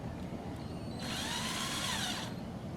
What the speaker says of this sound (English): will this dinky drill spin the engine over?